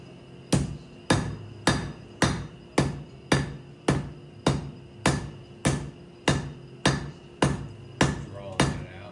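Rebar being forged into a fork is struck by a hammer in a steady, even rhythm, about fifteen loud ringing metallic blows, each decaying quickly before the next.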